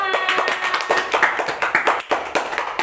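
Classroom of students clapping together for themselves at the close of a lesson, sharp irregular claps close by filling the room, with a few voices mixed in.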